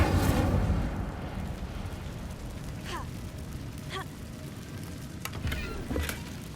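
Incendio fire spell cast in Hogwarts Legacy, a whooshing burst of flame at the start that fades into a crackling, rumbling bed with a few sharp pops later on.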